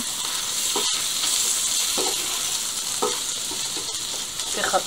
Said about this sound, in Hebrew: אני מערבבת את הכל